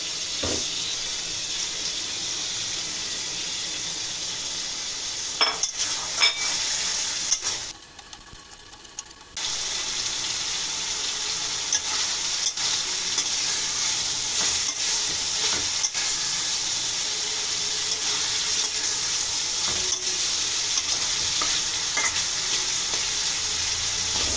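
Whole spices, dried plums, mace, nutmeg, raisins, almonds and bay leaves are stir-fried for beef keema biryani, giving a steady close sizzle with occasional stirring scrapes and a brief drop about a third of the way in.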